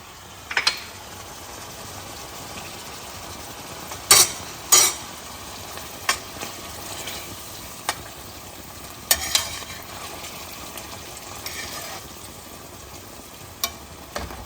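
Gigantes bean soup base with oregano, pepper and Indian spices sizzles softly in a pot, a quiet steady fry broken by sharp scraping clicks of a spoon stirring at irregular intervals.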